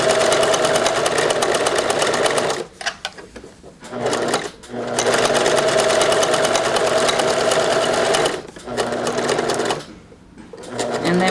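A domestic sewing machine stitches a buttonhole in garment fabric, its fast, steady whirring running in long bursts separated by short pauses.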